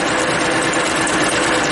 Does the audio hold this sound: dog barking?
no